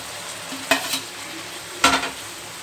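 Milk is poured and chhana fritters are dropped into a pan of pointed gourd (potol) frying in oil, giving two short, loud bursts of sizzling and stirring against a quiet background.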